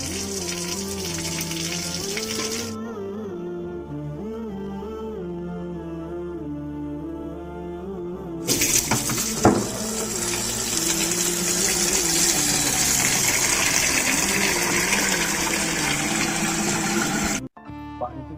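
Water from a submersible pump gushes loudly and steadily as a broad rush in the second half, after a stretch of tonal background sound, and it cuts off abruptly near the end.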